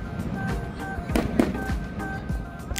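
Fireworks show over Niagara Falls at night, with a steady crackle and scattered pops of bursts, moderately distant, over a roaring background wash and crowd murmur.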